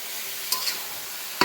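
Chicken pieces and potatoes fry in fresh oil for a homestyle chicken and potato curry, a steady close hiss with two brief scraping stirs of the pan, no voices.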